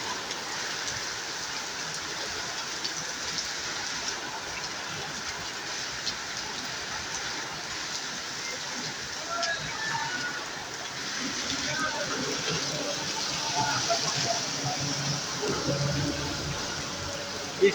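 Heavy rain falls over Satkhira town at a road junction, a steady broadband hiss of downpour on streets and surfaces, continuous and fairly loud, with faint traffic underneath.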